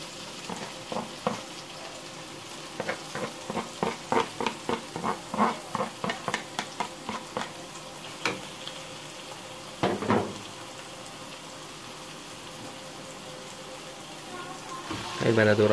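Peppers frying in a pan with onion, garlic and tomato added, giving a soft steady sizzle broken by a run of rhythmic clacks and scrapes of stirring, then a couple of louder bumps near the end.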